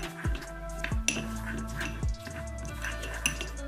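A utensil clinks and scrapes against a bowl while salt and lemon juice are mixed, giving a few distinct close taps over a low steady background.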